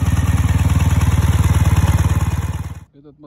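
A Dnepr MV-650 army motorcycle with sidecar runs its engine in a fast, even pulsing chug close up, then cuts off abruptly near the end, followed by a brief voice.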